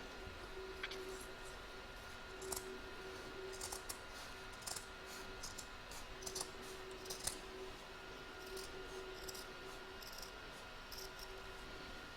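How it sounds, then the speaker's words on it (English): Scissors make quiet snips in fabric around the stitched edge of an embroidered coaster, a series of faint, irregular crisp cuts spaced over a soft hum. "now I'm just going to snip away, stopping just short of the stitch line, around the corners"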